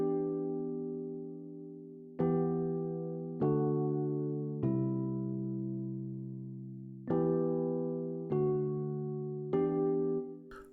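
Piano-like synth chords from an Essential Piano preset struck one at a time, seven in all, each ringing out and slowly decaying before the next, with no voices.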